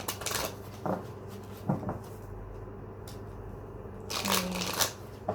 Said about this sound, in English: I want 5 big shuffles.